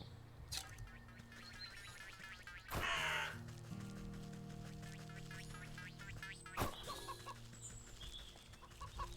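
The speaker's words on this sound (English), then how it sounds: "Crow." Crow cawing in the video game Wytchwood, two or three loud harsh calls over a layered musical and ambient game soundtrack, with no talking.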